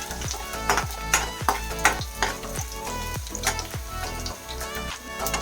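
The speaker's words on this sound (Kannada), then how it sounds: "ನೆಕ್ಸ್ಟು ಬೆಳ್ಳುಳ್ಳಿ ಇದು ಚೆನ್ನಾಗಿ ಫ್ರೈ ಆಗಬೇಕು" Garlic frying in a pan for drumstick leaf sambar, a steady hot sizzle broken by repeated sharp scraping stirs of a spatula against the pan, close and fairly loud with no voices.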